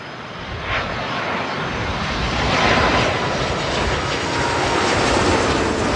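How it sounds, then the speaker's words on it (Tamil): A fixed-wing airplane roars overhead near Heathrow Airport, London, its engine noise loud and steady, swelling slightly as it passes. "இந்த பாருங்க ஒரு ஃப்ளைட் போகுது,"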